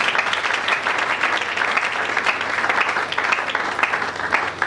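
A church congregation applauds for Jesus with dense, sustained clapping that stays steady and loud throughout, the sound of many hands together filling the room.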